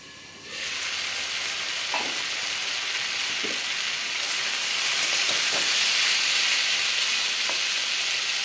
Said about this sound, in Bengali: এবার ঢাকনা বন্ধ করে আমি সেদ্ধ হতে দেব।